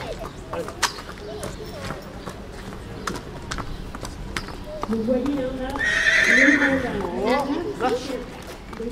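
A Boulonnais draft horse whinnies loudly near the middle, with hooves clip-clopping throughout and voices murmuring in the background, at a breed show in Lisbourg.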